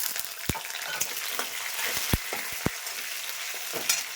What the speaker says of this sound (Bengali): লাল লাল করে ভাজা হবে, তারপরে আলুগুলো দিব। আলুগুলো ছেড়ে দিচ্ছি